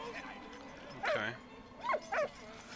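A dog in the video game Valiant Hearts, set in the Great War, gives a few short yips and whimpering barks, close and clear, with someone talking faintly underneath.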